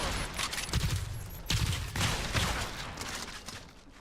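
In a shooter video game, a grenade blast and bursts of gunfire crack out in rapid, uneven volleys over about four seconds, close and fairly loud, with no clear speech.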